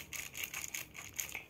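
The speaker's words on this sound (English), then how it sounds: "crinkle sound of plastic" Plastic is crinkled and squeezed close by in a quick run of rustling, crackly bursts, fairly soft and heard alone.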